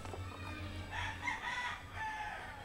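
Bantam chicken clucking with short crowing-like calls at moderate distance on a farm, faint against steady low background hum.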